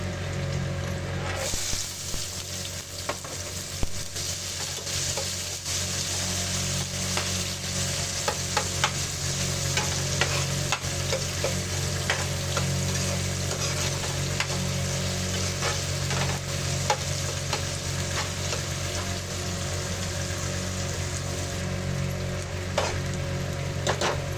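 Onion frying in a pan for a pea and potato curry, a steady close sizzle that holds through the whole stretch with light stirring scrapes and clicks on top, loud and alone, no voices.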